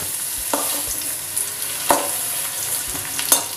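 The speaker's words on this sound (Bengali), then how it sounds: "দেখছি আমার আলু আর বেগুন ভাজা হয়ে গেছে।" Potatoes and eggplant frying in hot oil in a pan, a steady sizzling hiss with a few sharp spatula knocks and stirring scrapes spaced through it.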